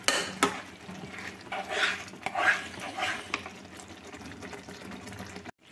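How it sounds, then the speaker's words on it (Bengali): A spoon stirs aloo posto with ground garam masala in a pot, giving soft scraping and clinking with faint liquid sloshing, close by and fairly quiet. "গরম মশলার গুঁড়ো তা দিয়ে দিন, এটা একটু ভালো করে নেড়ে নিয়ে একটু ফুটুক"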